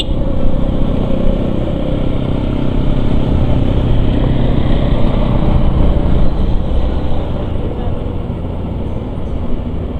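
A motorcycle rides along a narrow mountain road near Namche Bazaar, its engine a loud, close, steady rumble mixed with wind and road noise, with a voice talking over it.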